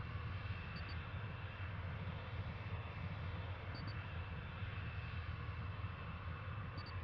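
A Dassault Mirage 2000C jet taxiing in the combat flight simulator DCS World, with a steady, loud, broadband engine roar and high whine that hold constant throughout, with no speech.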